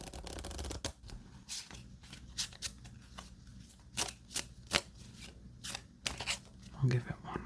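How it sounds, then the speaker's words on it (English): Cheap plastic-coated playing cards being shuffled repeatedly, a series of quick riffling bursts and soft slaps close up, in an uneven rhythm. "I'll give it one more shuffle."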